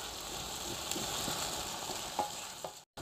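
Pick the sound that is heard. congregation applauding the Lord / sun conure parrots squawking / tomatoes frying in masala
tomatoes frying in masala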